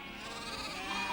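A single drawn-out sheep bleat, fairly quiet and slightly distant, wavering steadily for about a second with no other sounds around it, from a sheep herded by a shepherd in the coal valleys around Pontycymer and Ogmore Vale.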